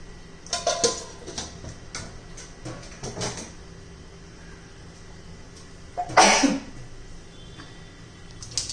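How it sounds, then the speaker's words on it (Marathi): Mustard seeds splutter in hot oil in a kadhai: irregular bursts of sharp crackling pops, with one louder, denser burst partway through, between quieter stretches, and no talking. "त्याच्यामध्ये मोहरी घालू, छान असे तडतडून घेऊ"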